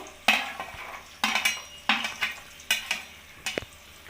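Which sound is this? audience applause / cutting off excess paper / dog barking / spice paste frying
spice paste frying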